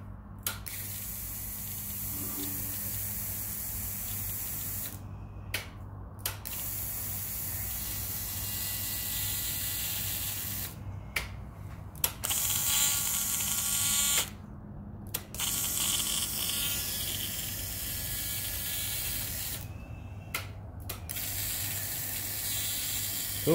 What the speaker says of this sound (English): Let's turn the key on and see if the pump works.